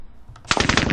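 An RPK machine gun fires in a Soviet-Afghan War video game: after a faint lead-in, a rapid, close burst of about eight sharp shots rattles out evenly over half a second.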